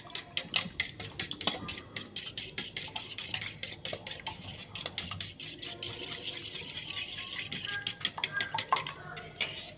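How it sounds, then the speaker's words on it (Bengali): Eggs with salt and turmeric being beaten in a bowl, a quick run of close, sharp clicking strokes of a utensil against the bowl, keeping up a fast, uneven rhythm. "একটু ভালো করে ফেটিয়ে নিচ্ছি।"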